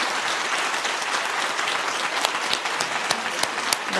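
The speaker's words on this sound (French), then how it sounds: "Donc je crois que vous pouvez les applaudir très très fort." Loud audience applause at a student competition awards announcement for a cosmetics event, a dense continuous patter of clapping with a few sharper individual claps standing out near the end.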